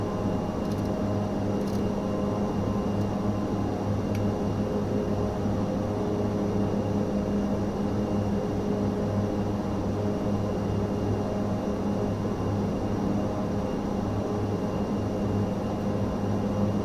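ATR 72-600 turboprop engines at max climb power in Microsoft Flight Simulator 2024, a steady droning hum with strong tonal layers, unbroken and even from start to finish.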